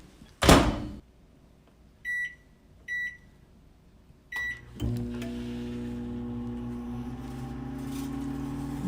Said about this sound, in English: heat the cream cheese about 10 seconds in the microwave